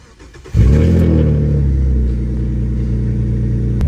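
A Jeep Liberty engine cranks and catches after a coolant flush, then settles into a loud, steady idle close by, with no talking.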